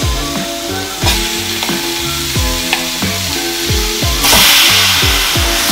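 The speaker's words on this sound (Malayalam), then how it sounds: "ഇതിലേക്ക് നമുക്ക് ചിക്കൻ ആഡ് ചെയ്യാം" Chicken frying with softened onions in a pan makes a loud, constant sizzle under prominent plucked background music, with occasional stirring knocks.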